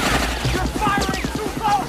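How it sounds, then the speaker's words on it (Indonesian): In a film scene, hunters fire a rapid burst of gunshots at a man, the sharp cracks coming in quick succession beneath a speaking voice. "Kemudian, beberapa orang dari mereka mencoba menembaki pria tersebut"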